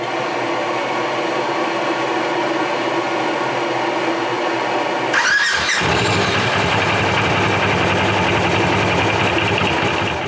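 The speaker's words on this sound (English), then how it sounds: "So we're gonna start it and see if it falls off." A Polaris RZR side-by-side with a recently failed clutch turns over and fires up, then settles into a loud, steady engine run that continues to the end without pause.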